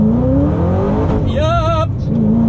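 A 2006 Ford GT accelerates hard with its tires spinning, the engine note rising and revving loudly up close, with people talking over it.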